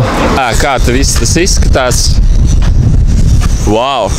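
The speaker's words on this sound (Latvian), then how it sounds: "riktīgi baigais vējš" Strong, cool wind at an outdoor seaside spot near a closed cafe, roaring as steady broadband buffeting against the microphone throughout, with someone speaking over it.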